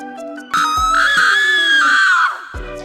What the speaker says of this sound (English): so that was the Scream